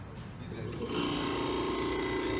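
A vintage window air conditioner runs with its fan motor going, a steady whirring hum with a faint tonal drone that swells and settles after the first second, fairly close and not loud.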